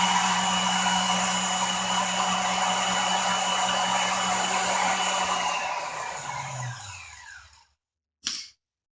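A Maxant 3100P honey extractor spins at full speed with a loud, steady motor whir that winds down and falls silent, followed by a single short clunk.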